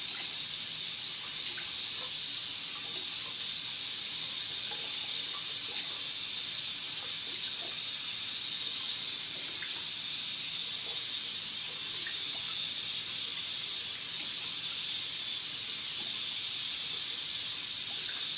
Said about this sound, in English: I'm just rinsing this off.